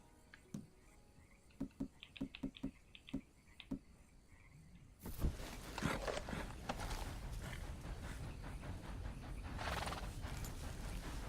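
Horse in Red Dead Redemption 2, with several soft, evenly spaced hoof clops at first, then a louder rush of movement, gallop and rustling noise continuing steadily to the end, with no speech.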